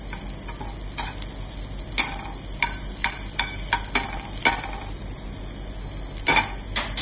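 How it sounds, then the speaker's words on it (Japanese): Hard spinach stems stir-fry in a pan, a steady close sizzle broken by repeated clacks and scrapes of a utensil against the pan, with no one speaking. "この一番下の茎がこれが一番美味しいです。 硬いので"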